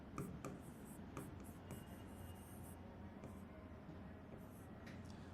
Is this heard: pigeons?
no